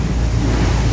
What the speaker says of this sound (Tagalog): Yan alon yan, lalaki lalaki so grabe alon